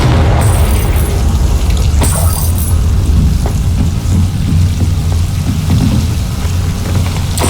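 Booming explosions from the Confringo blasting spell in Hogwarts Legacy, a loud, continuous rumble like a thunderstorm with crackling bursts layered on top and no voices.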